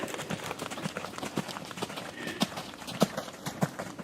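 A horse canters at a riding clinic at Persimmon Tree Farm, its hoofbeats landing in an even, repeating rhythm, fairly faint and slightly distant.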